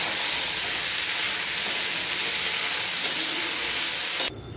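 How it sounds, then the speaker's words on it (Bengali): Steady, loud steam hiss rising from a pot of dal boiling on a home stove, continuous and close, cutting off abruptly near the end. "এখানে ডাল সেদ্ধ বসিয়ে দিয়েছি"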